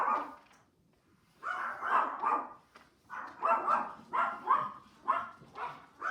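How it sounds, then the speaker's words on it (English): Several dogs bark in repeated bursts after a quiet opening, loud and fairly close, with overlapping yips and barks continuing to the end. "I'm just waiting for them to stop barking"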